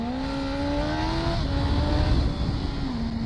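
A Suzuki GSX-S 1000F motorcycle accelerates hard. Its loud, close engine note climbs steadily, then drops briefly at each gear change before rising again, with no talk.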